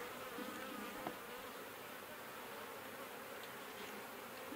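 Honeybees buzz in a dense, continuous drone during a hive inspection, with many insects humming close around the frames of wax comb and honey.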